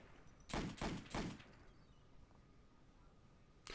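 Three sharp Nambu pistol shots from Call of Duty: World at War, fired in quick succession around a half-second apart and loud, followed by quiet with another shot starting right at the end.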